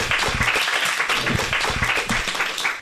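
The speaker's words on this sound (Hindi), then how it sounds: "इसी बात पर जोरदार तालियां।" Loud, close applause from an audience after a children's patriotic song at a school cultural program, with dense, steady clapping filling the short span.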